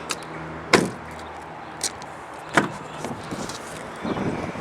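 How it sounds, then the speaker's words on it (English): Two solid thuds of the doors of a 2017 Holden VF Commodore station wagon being worked, a couple of seconds apart, with softer clicks and a faint rustle afterward in a quiet interior. "Back doors open nice and wide to allow easy access into the rear quarters of the car."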